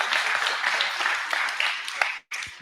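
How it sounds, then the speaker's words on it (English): A live seminar crowd applauds nurses in the room, with dense clapping mixed with a few voices. The clapping holds steady for about two seconds, then stops abruptly. "let's give a round of applause for our nurses"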